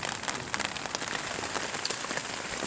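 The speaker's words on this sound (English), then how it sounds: "we're just laying here in the shelter, watching the rain come down, the wind blow" Steady rain falls on a forest shelter on a Canadian canoe and bushcraft trip, making a dense, even patter full of close individual drops that continues throughout with no voices.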